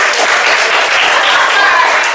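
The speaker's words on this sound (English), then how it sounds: "You can have a round of applause." A room full of people claps loudly and steadily, a dense wash of applause without any clear voices.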